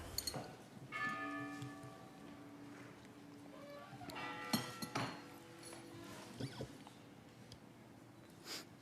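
Bells ring out repeatedly during a Chilean Senate committee session, a few sharp metallic strikes, their tones lingering over a murmuring background.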